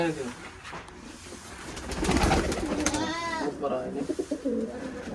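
Rajshahi Giribaz pigeons coo in low, rolling calls close by, with people talking over and between the cooing.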